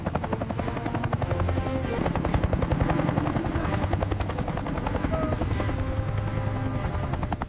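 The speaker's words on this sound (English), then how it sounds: "The thumping of the helicopter blades is the sound of the cavalry." A helicopter's rotor blades thump in a steady, rapid rhythm with a loud engine whine, continuous and close throughout.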